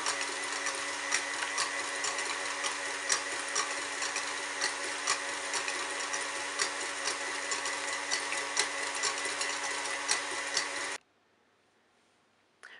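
An electric hand mixer whips egg whites with a pinch of salt as sugar is added, a steady, loud motorized whirr with a faint rhythmic ticking running continuously, then cutting off abruptly near the end.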